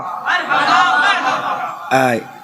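Crowd at a religious jalsa gathering at Bankul Sharif chants the slogan Naraye Mustafa, a swelling unison shout followed by a second short burst of voices, loud and close.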